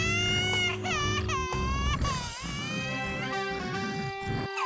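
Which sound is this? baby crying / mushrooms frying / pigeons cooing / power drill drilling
baby crying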